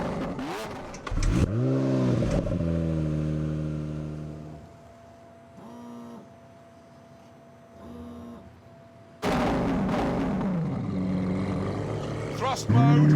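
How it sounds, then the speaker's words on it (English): A 730-horsepower car with no electrical aids accelerates and revs hard, loud roaring bursts at the start and end with a quieter idling stretch between, and a voice speaks over part of it. "this car has no electrical gubbins, it is, despite appearances, the lightest car here. And it has 730 horsepower"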